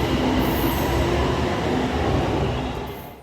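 BTS Skytrain electric train running in Thailand, a steady loud rumble of the car and rails with a faint high whine, continuous throughout and fading slightly at the end, no voices.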